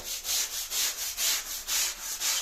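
Shower tile grout is scrubbed by hand with a brush, giving about nine rhythmic back-and-forth rasping strokes, close and loud, with no voices.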